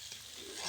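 Meat curry being stirred and fried in a pan while it is cooked down thick, giving a steady close sizzle with a faint scraping stir running through it and no talk.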